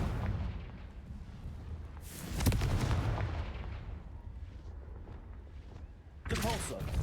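Confringo spell blasts from the video game Hogwarts Legacy go off as two sharp, booming explosions a few seconds apart, over a low rumbling game background.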